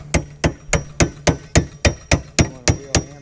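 Pliers beating on a metal part of a duck boat: eleven sharp, evenly spaced metallic strikes ringing out close and loud, about three per second, with no talking.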